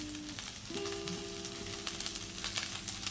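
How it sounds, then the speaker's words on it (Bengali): Soaked, well-drained basmati rice frying in a pan, a moderate crackling sizzle with light scraping stirs, close by and without voices. "এভাবে চালটাকে আমরা ভেজে নেব"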